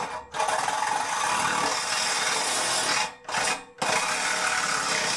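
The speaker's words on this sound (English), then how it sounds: "I believe the reciprocating saw is the right play" Reciprocating saw cutting through scrap aluminum, a loud, steady rasping buzz that runs continuously with two brief pauses near the end.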